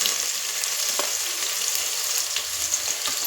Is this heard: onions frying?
yes